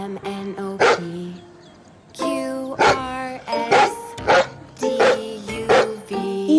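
A dog barks in a children's phonics alphabet song, with several short, sharp barks repeated between sung and musical tones.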